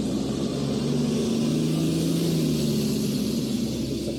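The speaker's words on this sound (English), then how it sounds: "There's one garbage truck waiting to get across." A private garbage truck waits at a crossing on Bloor Street in Toronto, its engine droning steadily and loudly with a low rumble that swells slightly as it revs.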